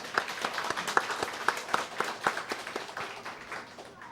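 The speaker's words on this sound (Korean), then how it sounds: "우리 하나님께 영광의 박수를 올리겠습니다" A church congregation clapping in applause during a Sunday service, a dense patter of many hands with some sharper claps standing out, gradually thinning toward the end.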